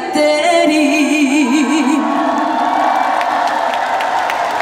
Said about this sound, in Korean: 박수와 함성 소리 아끼지 않으셔도 돼요